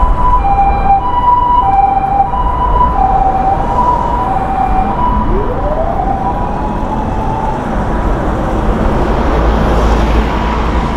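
An ambulance siren wails in the distance as it approaches, its tone rising and falling over steady, loud street traffic noise in Tokyo.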